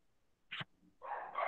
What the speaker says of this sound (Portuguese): É, Breno, o cachorrinho aí tá atrapalhando, Breno.